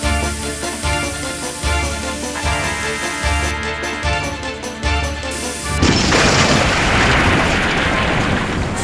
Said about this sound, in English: The hopper smashed into Samiyah